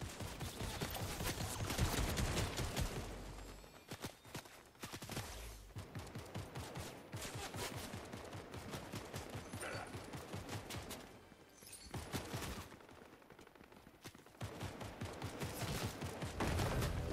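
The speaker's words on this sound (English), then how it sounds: "Stop shooting me, boss." Rapid gunfire in the Fortnite video game, bursts of repeated shots in quick rhythmic volleys with brief pauses between them, loud and close throughout.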